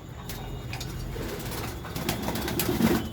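Pigeons coo softly while feeding nearby, low throaty calls rising toward the end over faint outdoor background with a few brief clicks.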